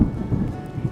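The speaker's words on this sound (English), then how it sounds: "Big old downpour over there." Heavy rain downpour in the Sandia Mountains shortly before sunset, a steady dense rumbling wash of falling rain with low thunder-like roll, continuous and close throughout.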